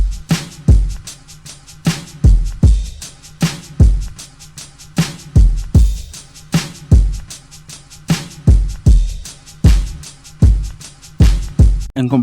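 Chopped drum breaks layered with tambourines, shakers and hi-hats form a loud, punchy loop of sharp hits in a steady repeating rhythm, with no voices.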